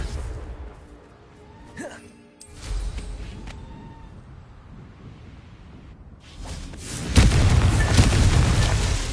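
A Confringo spell erupts in a video game with a loud, rumbling explosion that swells suddenly near the end and keeps roaring, after quieter magical whooshes and clatter.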